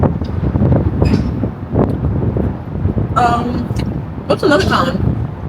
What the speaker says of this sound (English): The wind's strong here.